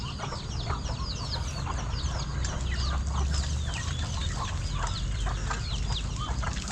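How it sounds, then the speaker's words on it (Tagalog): Many chickens on a farm cluck and chatter continuously at a moderate distance, with overlapping calls and occasional higher squawks over a low background rumble. "Maraming mga manok na palaki"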